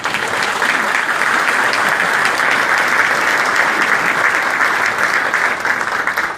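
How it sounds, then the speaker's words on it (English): A large audience at a chamber of commerce economic summit on the Outer Banks applauds, a dense, steady wash of many hands clapping close by that holds for the whole stretch with no talk over it. "I think that deserves a huge round of applause"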